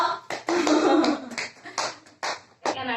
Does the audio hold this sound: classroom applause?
yes